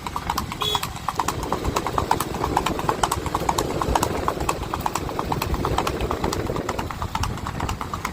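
Steady, rhythmic hoofbeats of a Sindhi horse clip-clop along at a brisk gait while ridden, with a low engine hum and faint voices in the background.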